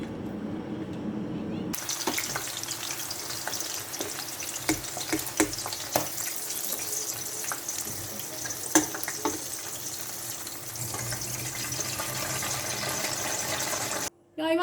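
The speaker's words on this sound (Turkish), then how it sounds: "Üç adet sivri ya da charleston biberimizi kızartıyoruz." Sivri or charleston peppers frying in hot oil give a steady crackling sizzle with scattered pops, close and fairly loud, lasting throughout before cutting off abruptly near the end.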